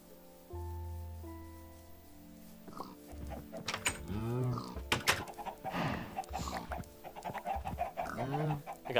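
Chickens in modded Minecraft cluck and squawk in short bursts that recur through the stretch, mid-loud and close, mixed with game sounds and occasional other noises.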